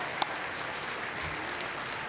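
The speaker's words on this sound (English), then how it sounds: "I invite the graduates to applaud all those who came far and near." Graduates at a 2008 commencement ceremony applaud, a steady wash of many hands clapping at once that holds evenly loud throughout, with no voices on top.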